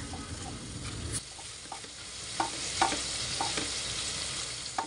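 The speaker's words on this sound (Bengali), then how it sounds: "মুরগির মাংসগুলো আমার অনেক সুন্দর করে ভাজা হয়ে গেছে" Chicken frying in a pan gives off a steady sizzle, with a few soft scrapes and clicks of stirring scattered through it; no voices.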